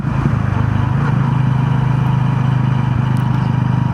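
A Honda CB 125 motorcycle engine runs at a steady, close, droning idle-like pitch, without clear jerks or a cut-off heard.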